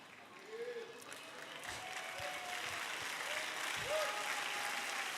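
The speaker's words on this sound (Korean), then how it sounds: "잠깐 박수 치지 마세요." An audience at a talk on love and marriage applauds steadily, the clapping building slightly and holding at moderate level throughout, with a few faint voices mixed underneath.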